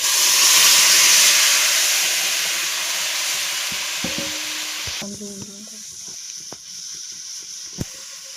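Ingredients hit a hot pan in a home kitchen, setting off a loud, steady sizzle and hiss that gradually settles, followed by quieter clinks and stirring sounds.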